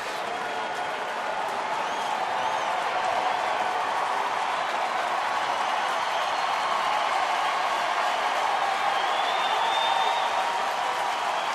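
A large baseball stadium crowd of over 33,000 cheers and applauds in the ninth inning, a broad steady roar of voices and clapping that holds throughout.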